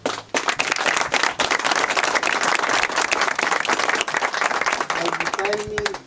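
Audience applause for Monseñor Leonidas Proaño, dense steady clapping from a crowd lasting several seconds, with a few voices rising near the end.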